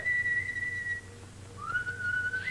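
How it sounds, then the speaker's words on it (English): A person whistles in a Dr Fu Manchu film, a clear held note, then a short pause and a rising, sliding tone, heard close over a faint background. "Stop what? That whistling. It's bad luck."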